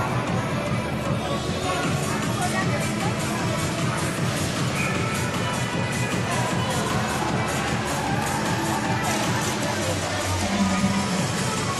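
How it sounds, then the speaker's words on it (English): An indoor arena crowd at a women's para ice hockey world championship game between Great Britain and Team World makes a continuous, dense roar of noise, steady throughout, with a commentator talking over it. "Look at the crowd we've got out here, the noise, the atmosphere."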